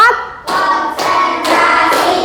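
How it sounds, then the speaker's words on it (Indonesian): A school class performs a rhythmic concentration clap in an Islamic jurisprudence lesson on zakat, loud bursts of hands clapping in quick patterned groups, each burst starting sharply and repeating roughly every half second, close and dry. "tepuk konsentrasi. Tepuk 1, tepuk 2, tepuk 3, tepuk 4"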